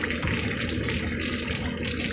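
Heavy rain and wind in Martin County, Florida: a dense, steady wash of falling water and gusting air, loud and continuous throughout without pause.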